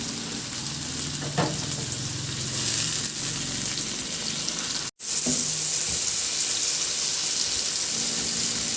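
Onion and tomato sizzle in a hot pan for a Filipino fish dish, a steady frying hiss with occasional stirring clinks, one brief cut midway, and no talking.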